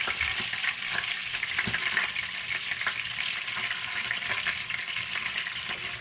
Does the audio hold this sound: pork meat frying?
yes